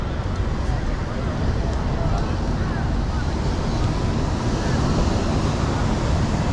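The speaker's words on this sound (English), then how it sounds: "Some big ass waves, man." Ocean surf breaking at Ipanema Beach in Rio de Janeiro, a steady broadband roar of waves mixed with wind buffeting the microphone, loud and continuous throughout.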